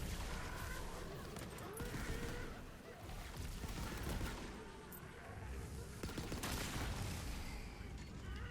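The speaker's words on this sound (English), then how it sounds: "Shooting skeletons." Gunfire from shooting skeletons in Tiny Tina's Wonderlands, a dense, continuous barrage of loud shots and bursts running throughout, with a busy game soundscape underneath.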